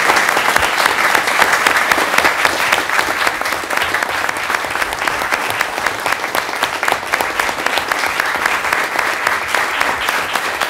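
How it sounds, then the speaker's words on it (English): A council chamber audience at a mayor and aldermen meeting applauds loudly and steadily for about ten seconds, a dense close wash of many hands clapping with no voices. "Can we give them all a round of applause?"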